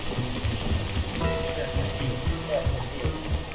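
Steady rain falls in the climbing video game PEAK as a dense, continuous hiss of drops, with faint voices mixed underneath.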